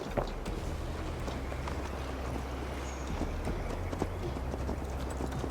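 Horse hooves clip-clopping in a steady galloping rhythm during a ride in Assassin's Creed Valhalla, continuous and fairly close over a low rumbling bed of game ambience.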